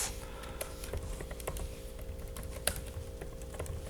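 A computer keyboard is typed on in a quick, uneven patter of close keystroke clicks, with a few sharper taps mixed in. The typing goes on with no talk.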